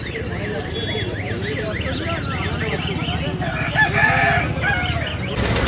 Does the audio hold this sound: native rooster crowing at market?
yes